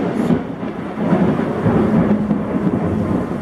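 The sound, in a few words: thunder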